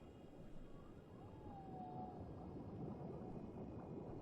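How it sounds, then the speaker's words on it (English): A whale call in the underwater survival game FarSky rises as a single faint, drawn-out moan over a dense, murmuring underwater ambience, with no voices. "Did I hear a whale?"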